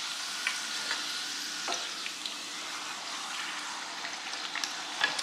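A corn tortilla frying in a pan until browned, giving a soft, steady sizzle with a few light taps and scrapes, quiet and close.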